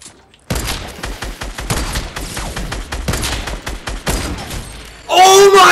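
Bursts of rapid gunfire in a video game, loud and dense throughout, with shouted exclamations over it and a sharp, loud burst at the end.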